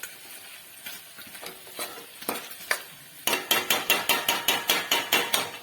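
Green chilli and tomato paste frying in a pan for mutter paneer curry, with sporadic scraping stirs at first, then a quick regular run of sharp spoon-on-pan strokes over a soft sizzle.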